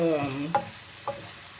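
Sliced potatoes for an Irish potato quiche sautéing in a pan: a soft sizzle under a faint tonal hum, punctuated by two short scraping stirs of a utensil.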